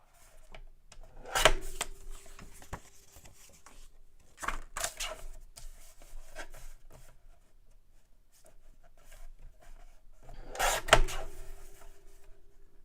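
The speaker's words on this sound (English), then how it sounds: "Sorry for the cutting noise." Card stock being cut for card making, with a few short sharp slicing or trimming strokes spaced several seconds apart and quiet rustling and handling in between, fairly close and soft.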